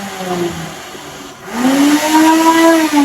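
A Silver Crest blender runs with a whining motor tone, first lower, then dipping briefly before surging into a louder, higher steady whir, heard close up with no talking.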